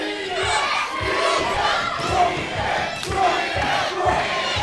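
A crowd at a live professional wrestling show in Sevenoaks cheers and shouts steadily, a loud dense roar with rhythmic rising chants and a few whistles, sustained throughout.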